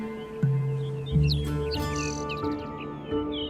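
Migratory birds chirping in open sagebrush desert, several thin high calls and short trills scattered over a steady low hum, moderately close and with no voices.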